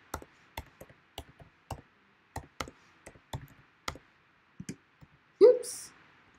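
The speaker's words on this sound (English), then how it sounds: "I'm typing in my Instagram name" Keyboard typing heard as sparse, irregular clicks and taps at close range, spread across the stretch and ending in a louder knock near the end.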